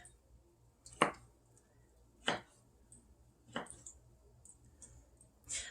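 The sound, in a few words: knife cutting potatoes into cubes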